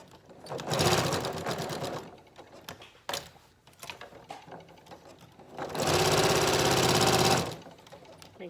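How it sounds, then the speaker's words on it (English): A sewing machine stitches a quarter-inch seam on a fabric face mask with elastic, running in two close, steady bursts separated by a quiet pause. "you're just using a 1/4-inch seam, and you back stitch in the beginning"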